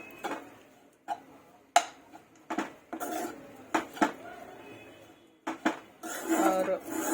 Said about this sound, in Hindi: इसे मैं भून लूँगी घी में।